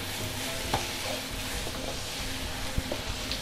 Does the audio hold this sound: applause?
no